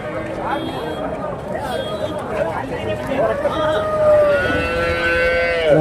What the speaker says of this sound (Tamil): ஜெர்சி மாடு